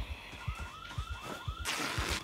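In the Project Zomboid video game, a car alarm wails with rhythmic rising whoops and pulsing low beats, then switches to a harsher, buzzing tone, loud and continuous.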